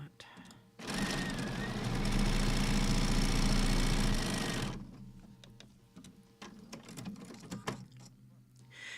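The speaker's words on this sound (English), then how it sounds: "I'm just grabbing them and sewing them together willy-nilly" A sewing machine runs in one continuous burst of several seconds, stitching quilt crumb block pieces with polyester thread, then stops, followed by quieter handling clicks and rustles.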